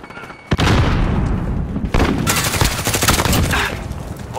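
A grenade blast followed by sustained heavy gunfire in a Call of Duty: Modern Warfare online match, loud and dense: an initial boom, then continuous automatic fire with a second surge of explosive noise midway.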